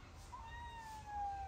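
A cat meows once in a drawn-out, rising-then-falling cry, fairly faint over a low background hum and murmur.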